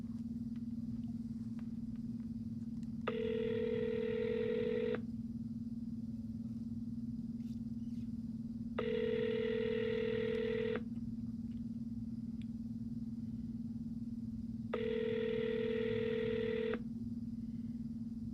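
A phone call rings out over a steady low hum: three evenly spaced ringback tones, each about two seconds long, sound at regular intervals with quiet gaps between them.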